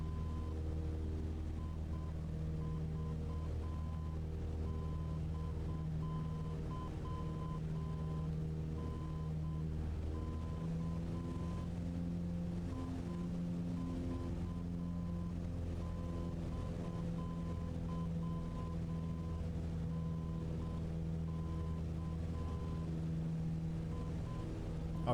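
An aircraft engine in Microsoft Flight Simulator 2020 drones steadily at a low, even pitch with a faint whine on top, holding unchanged throughout with no voices.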